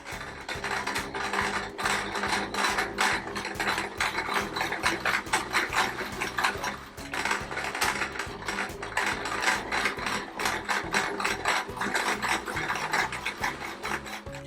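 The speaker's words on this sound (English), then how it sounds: "I'm going to start sewing the 2/4 pieces in the center together first." A sewing machine stitching small patchwork quilt pieces runs in steady, busy rapid mechanical clatter at close range, with one brief pause midway and no talking.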